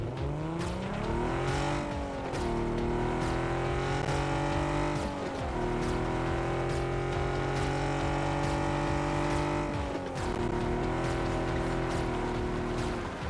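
A car engine drones continuously in the battle-royale game PUBG, its pitch climbing and dropping as it shifts through gears, loud and close with no talk over it.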